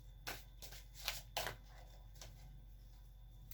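A card is drawn from a deck with a few soft slides and flicks, faint and close, then quiet room tone.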